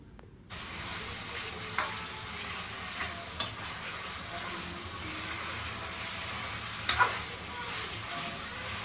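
Food sizzles and fries steadily in a pan over a medium flame while a spoon stirs it, with a few sharp scrapes and clinks against the pan; no voices.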